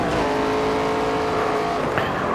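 A race car engine drones at steady high revs on a timed road-course lap in NASCAR 25, loud and close, with a quick shift in pitch near the end and faint tire noise.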